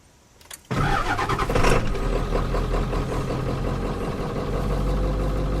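A 1996 Ford F250 truck engine cranks and catches, then settles into a steady, loud idle that runs close by without pause.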